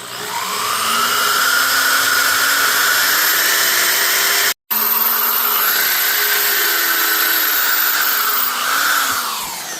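A steady high whine of a power drill running continuously at close range, drilling into a 1985 Alvarez Yairi DY76 acoustic guitar during neck removal, with a short pause midway before spinning up again.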